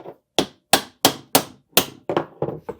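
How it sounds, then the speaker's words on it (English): Tool taps on a screw to separate the internal damper shaft from the lower boot of a RockShox Pike Charger 3 RC2 damper: nine sharp, close metallic hits in a fairly steady rhythm, a little faster toward the end. "we are going to tap the screw in order to separate the internal shaft from the lower boot"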